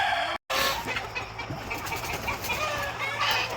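Hens clucking and murmuring nearby in a busy farmyard, a steady mix of short bird calls over rustling background noise, with no talking.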